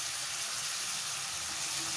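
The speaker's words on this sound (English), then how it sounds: "So let these onions fry really well." Onions and curry leaves fry in a pan with a continuous, even sizzle and hiss that stays steady and close throughout, with no talking.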